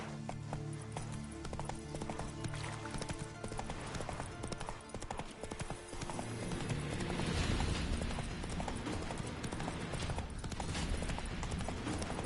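Horse hooves trotting in The Witcher 3, a steady clip-clop rhythm that runs throughout, close and fairly loud over a dense game soundscape with a brief whinny-like hint; no speech over it.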